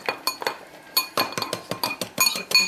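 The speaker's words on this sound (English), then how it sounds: "And kind of whisk this around there." A fork whisks breadcrumbs, red pepper and chili powder in a bowl, with rapid, rhythmic metallic clinks and taps close up and no talking.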